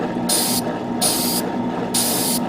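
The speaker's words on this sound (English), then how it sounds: "I'm going to re-spray paint it again." Three short hissing bursts of an Iwata airbrush spraying paint on a Gundam model kit, each lasting under half a second, over a low steady hum of the compressor.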